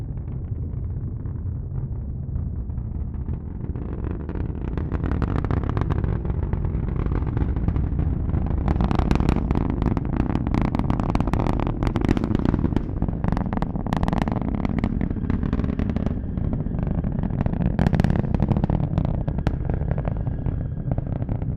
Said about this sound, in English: Liftoff of the Falcon 9 rocket.